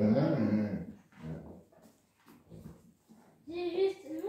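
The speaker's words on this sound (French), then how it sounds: "J'ai juste mon petit chien à côté" Small pet dog whimpering and growling in short bursts, close by, alongside a person speaking.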